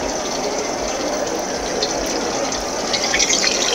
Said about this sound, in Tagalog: sabayan na muna natin ng tubig para pwede natin haluin ang kamay natin para malinisan natin ang maigi ang ating karne